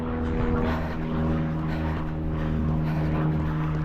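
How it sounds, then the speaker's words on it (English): An airplane flies overhead during a marathon in Spokane, a steady droning engine hum with sustained tonal whine that holds loud and even throughout. "There goes the plane."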